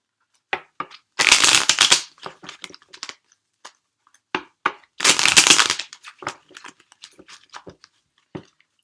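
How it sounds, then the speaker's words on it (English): Tarot cards shuffled by hand during a reading, two long riffling bursts of crisp paper flutter separated by scattered taps, slides and small clicks of handling, close and fairly loud with no talking. "One more shuffle."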